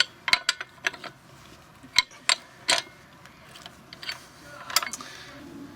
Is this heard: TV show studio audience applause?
no